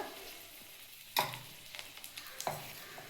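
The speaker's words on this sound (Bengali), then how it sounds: "একটু কালো জিরে আর চারটে কাঁচা লঙ্কা দিয়ে দিলাম দিয়ে ভালো করে একটু ভেজে নেবো" Dried chilli, nigella seeds and green chillies hitting hot oil left from frying fish, a quiet sizzle broken by a couple of sharp spattering bursts and light stirring.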